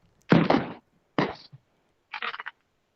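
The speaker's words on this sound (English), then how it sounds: "Is that your firecrackers or your neighbors?" Firecrackers go off outside in three bursts: two heavy bangs followed by a quick crackling string of smaller pops, distinct and fairly loud against a quiet background.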